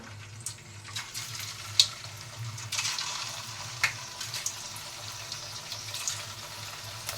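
Rice flour evening snack frying in hot oil over a medium flame, giving a faint, steady bubbling crackle with occasional sharper pops, heard close and without any talk.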